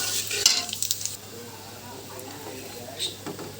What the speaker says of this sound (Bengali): কড়াই তেল গরম করেছি তার মধ্যে দিলাম তেজপাতা দিব কালো জিরা